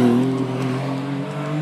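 A rally car with a six-cylinder Duratec engine on a special stage gives a loud, steady engine note, a sustained close drone with a faint shift in pitch as it passes.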